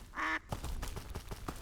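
A duck in a video game gives one short, bright quack, followed by soft rhythmic tapping.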